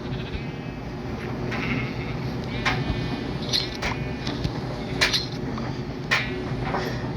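Sheep bleat in Minecraft, a few short wavering calls over a steady background of game ambience and soft clattering.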